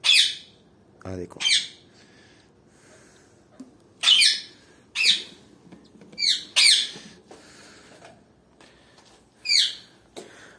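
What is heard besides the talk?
squawking of albino red-eyed breeding birds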